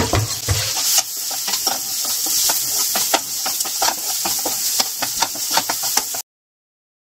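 Finely chopped onions sauté with green chillies in a pan, giving a steady close sizzle and hiss broken by frequent scraping clicks from stirring, with no voices.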